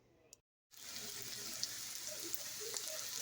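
Onions seasoned with paprika fry in a pan for cheesesteaks, giving a steady, close, moderately quiet hiss and crackle that begins after a brief silent gap and continues evenly with no talk.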